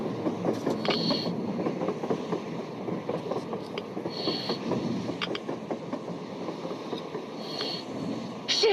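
A train runs across the open surface in Metro Exodus, a steady rumbling roll with clickety-clack wheel beats and occasional brighter metallic bursts, heard at a moderate distance and continuous throughout.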